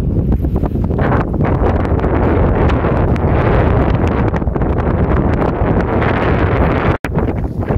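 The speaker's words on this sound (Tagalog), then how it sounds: "Ang lakas ng hangin." Strong wind roars and buffets the microphone continuously on a boat outing in Japan, loud and gusty throughout with no voices.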